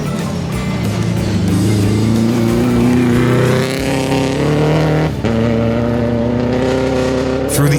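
Subaru Rally Team Canada rally car racing through a gravel stage at Rallye Baie des Chaleurs 2017, its engine roaring loud and close, revving and shifting with rising and falling pitch and a brief lift mid-run.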